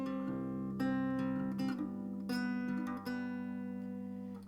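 Guitar playing part 4 of a song, a run of plucked notes over ringing chord tones, several distinct attacks across a few seconds, close and clean with no voices, the last note left to ring.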